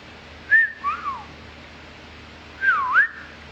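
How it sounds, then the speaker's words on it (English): A person whistles two short rising-and-falling phrases, clear and close, separated by a quiet pause. "Do you know how to whistle?"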